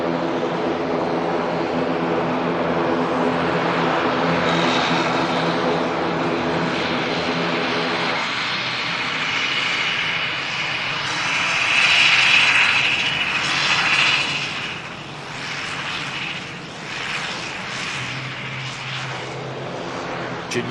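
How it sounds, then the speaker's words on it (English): A Juneyao Air Dreamliner jet departs for Shanghai with a loud, sustained engine roar. The roar shifts in tone and swells in the middle before easing off. "Junyao Air Dreamliner heading back to Shanghai."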